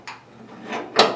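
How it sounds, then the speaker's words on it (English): The handle on the tailgate of a 1966-1977 Ford Bronco is rotated, and the latch bolts release with two short clunks, the second louder and sharper, close and alone. "I should be able to pull the handle and release the bolts"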